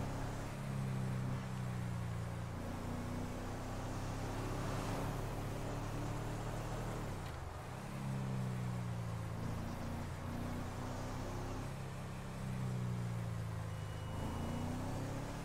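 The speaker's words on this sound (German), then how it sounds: "Also mit diesem Turbosound, das hört sich schon geil an." A tuned company car with a turbo pulls onto the highway, its engine droning and rising through several gear-like swells, with a brief dip midway before building again; steady road noise underneath, no talk.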